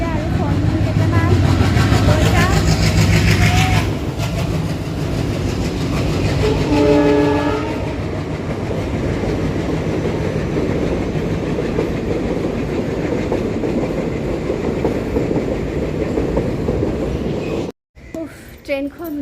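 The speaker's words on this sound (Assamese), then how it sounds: "ট্ৰেইনখন গ'ল বাৰু" A train passing close by during the Kati Bihu festival season in Assam, loud rumbling wagons with clickety-clack and a prolonged horn blast, rolling on steadily before cutting off abruptly near the end.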